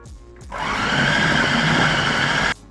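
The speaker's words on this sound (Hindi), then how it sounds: "सारी ही चीज़ों को अच्छी तरह पीस लेना है, बिल्कुल इसका एक पेस्ट बन जाए, इतनी देर इसको पीसना है" A mixer grinder whirs steadily as it grinds chicken and spices into a paste, starting after a brief pause, holding a loud, even high-pitched motor drone for about two seconds, then stopping abruptly.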